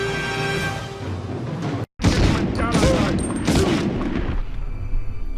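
A burst of gunfire and explosions from the Medal of Honor PS1 video game plays after a brief dropout. Heavy booms and rapid shots overlap with distant yelling, loud and chaotic, and music carries on under it.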